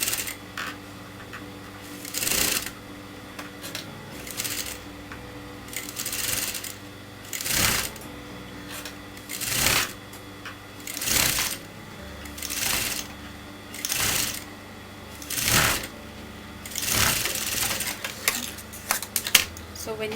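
A sewing machine stitches kameez fabric in repeated short bursts, each run of rapid mechanical clatter separated by brief pauses while the cloth is repositioned; close and steady throughout.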